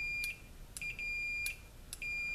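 Short electronic beeps from a DIY buzzer circuit wired to a push button, four sharp high-pitched chirps at irregular intervals over about two seconds, clear and close with no talking.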